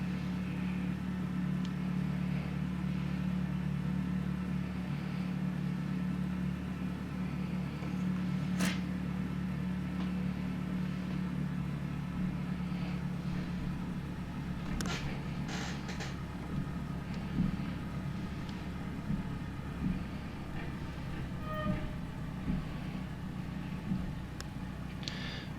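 An A2A Cessna 172 engine idles steadily while taxiing toward the runway in a flight simulator, a low continuous hum with faint creaks and clicks scattered over it and no talking.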